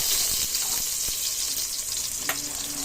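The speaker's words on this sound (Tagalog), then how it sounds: "mainit na yung aking kaldero. Ilagay ko na guys yung aking bawang." Garlic hits a hot pot and fries with a steady, fairly loud sizzle and crackle, broken by a few scraping stirs and clinks of a utensil, with no talking.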